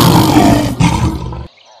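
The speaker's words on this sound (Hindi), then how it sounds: "ये सुनते ही शेर दहाड़ कर बोला" A lion gives one loud, close, rasping roar lasting over a second, then cuts off abruptly into near silence.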